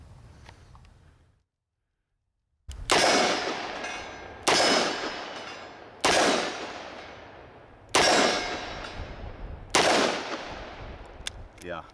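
Five loud, sharp gunshots from a compact Ruger LCR .357 Magnum revolver at an outdoor range, each crack followed by a long decaying echo, spaced about one and a half seconds apart after a brief silence.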